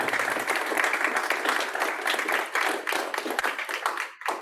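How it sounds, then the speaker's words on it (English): A reception audience gives itself a round of applause, dense steady clapping filling the room at close range for several seconds before tapering off at the end. "How about let's give ourselves a round of applause for everything that we did."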